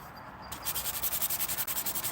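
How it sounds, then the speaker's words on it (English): Hand sanding with 400 grit sandpaper: after a quiet start, rapid rhythmic back-and-forth rasping strokes, about a dozen in a steady cycle, close and loud, with no talking. "switch down to a 400 grit and get her really polished up quite nice"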